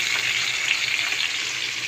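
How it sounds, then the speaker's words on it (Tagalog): Steady, loud sizzling of fish frying in hot oil, a dense crackling hiss that continues evenly throughout. "Nagpiprito ng isda."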